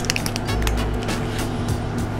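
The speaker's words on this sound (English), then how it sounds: "let me spray it on skin" A brief hissing spray of Dior Sauvage Elixir perfume onto skin bursts out at close range, a short pressurized mist that fades within a couple of seconds.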